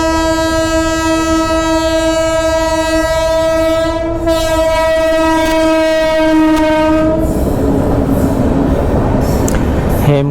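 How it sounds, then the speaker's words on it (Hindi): A train rolls slowly past the Haridwar railway level crossing with a long, steady horn blast sounding over a continuous rumble, then the horn ends and the near rumble and clatter of the passing carriages continues. "यह है हरिद्वार का रेलवे फाटक। यहाँ से एक ट्रेन बहुत ही धीरे धीरे आती हुई"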